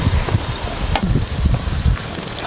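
Sliced bitter gourd is stir-fried in a pan the traditional Maharashtrian way, giving a steady, close sizzle with repeated scraping and stirring strokes and no voices.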